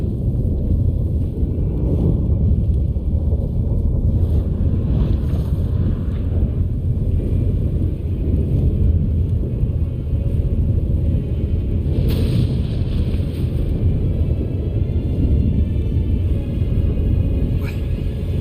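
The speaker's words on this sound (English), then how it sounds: "That a storm?" A storm in The Witcher 3 as a constant deep rumble and roaring wind, steady and loud, with a few faint higher swells riding on top.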